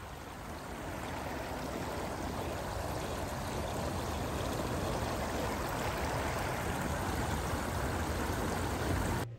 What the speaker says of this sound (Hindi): पानी की आवाज़ इतनी अच्छी लग रही थी